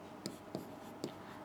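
Chalk or marker writing on a classroom board during an English grammar lesson, a soft steady scratch punctuated by three or four light taps, close and quiet with no talk.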